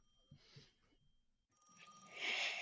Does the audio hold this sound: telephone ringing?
yes